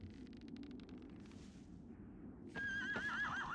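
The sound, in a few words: horse neighing in the video game Shadow of the Colossus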